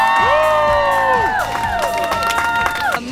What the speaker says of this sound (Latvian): tāpēc aplausi vēlreiz!